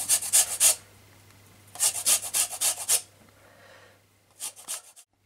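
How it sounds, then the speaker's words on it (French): Orange and lime zest being grated: several short bursts of rhythmic rasping strokes against a grater, close up, with quiet gaps between the bursts and no talking. "j'ai râpé l'orange et de lime"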